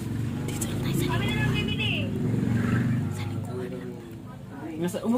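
Car interior while driving, with a steady low engine and road rumble running throughout and people talking over it.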